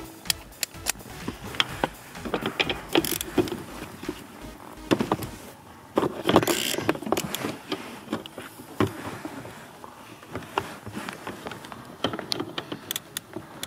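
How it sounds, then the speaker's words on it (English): A ratchet clicks in quick irregular bursts while loosening the bolts on the accelerator pedal of a Dodge Journey, close and crisp with faint rustling and clanks of the tool between strokes. "we'll get the ratchet now just to get them loose"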